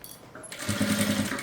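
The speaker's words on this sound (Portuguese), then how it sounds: "vou costurando aqui a volta toda" A sewing machine stitches slowly around a fabric pouch, starting after a brief pause and then running in a quick, even mechanical rhythm of needle strokes, close and clear.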